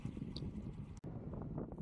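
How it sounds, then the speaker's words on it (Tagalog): A steady rush of strong wind buffets the microphone with low rumbling gusts, loud and continuous, broken by a brief dropout partway through. "Lakas ng hangin pa rin."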